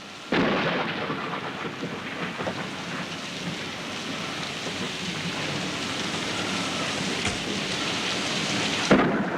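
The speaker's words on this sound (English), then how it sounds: "I listened to the batter of the rain against my window" Heavy rain pours steadily in a dense, continuous roar, with low rumbles of thunder rolling underneath.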